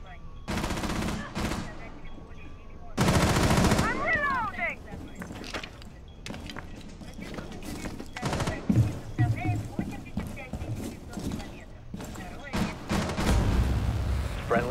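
Gunfire in Rainbow Six Siege on the Kafe map: loud bursts of close automatic shots alternate with single reports and scattered impacts over about fifteen seconds, with players talking throughout.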